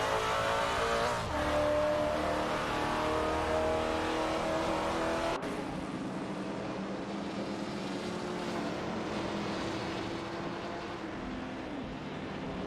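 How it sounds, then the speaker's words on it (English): AI-driven race cars lapping in a racing simulator video game, with continuous engine roar and revving that shifts pitch as the cars pass. An abrupt cut partway through leaves a slightly quieter, steady drone of engines. "We are currently watching the racing cars driven by artificial intelligence in the racing simulator."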